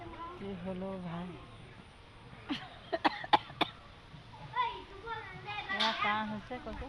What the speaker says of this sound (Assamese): কাহ হৈছে